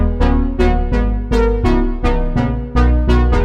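A pop/chill house drop: punchy synth chords struck in a repeating rhythm over a bass that follows the same notes, with each hit decaying quickly, loud and upfront, with no voices.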